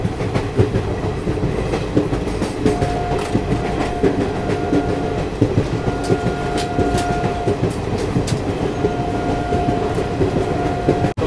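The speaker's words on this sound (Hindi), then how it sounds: "वाराणसी जंक्शन से भी अपनी ट्रेन निकल चुकी है" Garib Rath Express train rolling after departing Varanasi Junction, heard from inside a coach: steady loud rumble with clickety-clack of wheels over rail joints and a faint drawn-out horn tone in the background.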